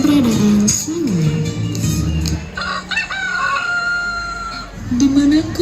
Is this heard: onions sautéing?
no